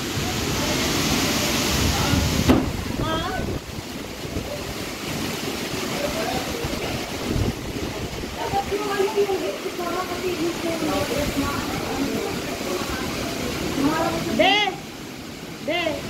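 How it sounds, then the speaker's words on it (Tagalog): Strong typhoon wind roars steadily with gusting rush and hiss outside a house with trees in front, while voices chatter faintly in the background throughout. "Grabe yung hangin dito."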